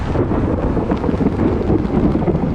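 Steady, heavy rain roars close by in a New York City thunderstorm, with low rumbling thunder underneath, a continuous storm wash with no clear break or talking.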